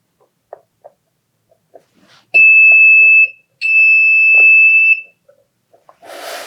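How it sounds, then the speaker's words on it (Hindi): A PIR motion-sensor security alarm sounds with two loud, steady electronic beeps of about a second each, surrounded by faint clicks and handling noise, ending with a brief rush of noise. "अब इस रूम में जैसे ही कोई एंटर होगा यहाँ पर तो हमारा अलार्म एक्टिवेट हो जाएगा।"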